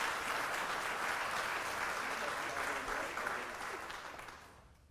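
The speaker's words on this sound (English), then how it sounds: "Let's give him a round of applause, please." An audience at a morning talk applauds with dense, steady clapping that holds strong for several seconds, then thins out and fades toward the end.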